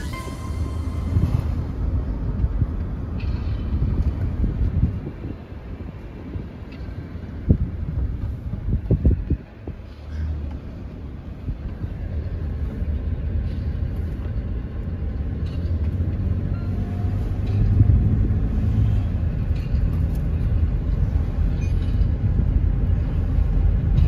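A car rolls through a residential neighbourhood of houses, giving a steady low road and engine rumble from inside the cabin. Wind buffets the microphone, a few brief knocks sound midway, and no one speaks.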